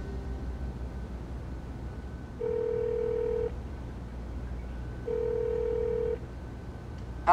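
An outgoing telephone call rings on the line, giving two long electronic ring tones separated by a pause, clean and moderately loud over faint line hiss.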